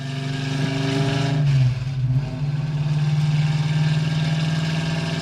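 A 1967–68 GT car with a 397 engine revs loudly and close by, its pitch climbing and dipping through a steady rumble with no talking.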